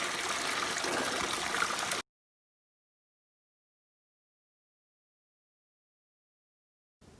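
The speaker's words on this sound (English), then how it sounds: "water source is actually running." A mountain stream runs beside a trail campsite: steady, close rushing water for about two seconds, then it drops to silence before a faint return at the very end.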